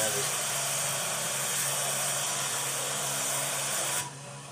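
Steady broadband hiss of an air spray gun spraying water, continuous and close, cutting off abruptly near the end.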